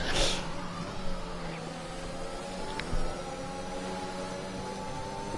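Racing cars in a sim racing game at the Saudi Arabia round, steady engine drone with shifting tones and a few brief revving swells, heard plainly with no voices over it.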